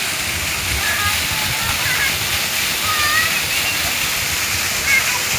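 Water gushing steadily from a farm motor pump on a field, a continuous rushing splash like a small waterfall, fairly loud throughout with faint chirps over it.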